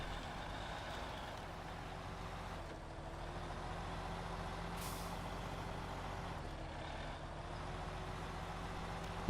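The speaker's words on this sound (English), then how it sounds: "right now, we're just moving this truck out of the way to get that Kenworth up the hill" A heavy truck driven in the video game Snowrunner rumbles steadily with a low engine drone and a faint air-brake hiss in the middle, heard alone without talk.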